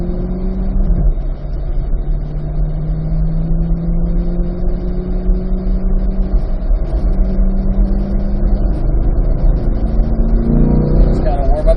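A 2022 Corvette C8 Z51 pulls out onto the Motorsport Ranch race track, its engine note droning and rising through gears in a loud steady cabin rumble, with people talking over it.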